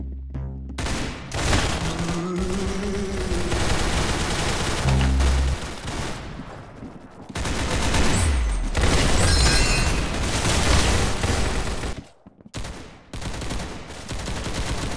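Gunfire in the video game Arsenal, sustained loud bursts of rapid shots with booming impacts, running nearly continuously and broken by a couple of brief gaps.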